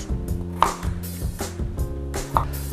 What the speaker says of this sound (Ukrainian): Тепер ми можемо посікти часник